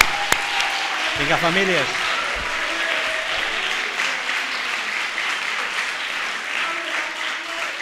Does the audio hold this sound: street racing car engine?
no